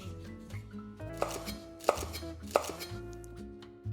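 Carrots, red onion and celery stalks are pulsed in a food processor, giving a few sharp chopping bursts over a steady low motor hum with no talking.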